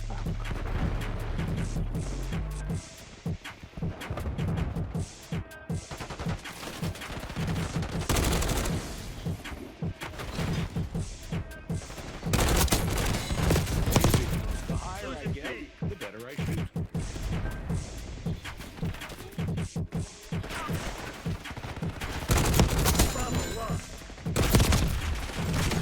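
Continuous rapid automatic gunfire and bursts in Black Ops 6 multiplayer, with dense volleys and impacts throughout, while players talk over the shooting.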